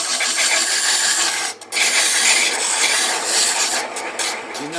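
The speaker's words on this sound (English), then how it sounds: "You're going to use a board like this with some MDF and turn it at a slow speed and use both hands" Steady, loud rasping hiss of a turned wooden jewelry box bottom being sanded flat against an MDF board on a slow-spinning lathe, continuous apart from one brief dip.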